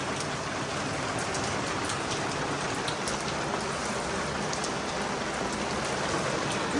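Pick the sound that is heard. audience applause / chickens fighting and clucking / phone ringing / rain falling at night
rain falling at night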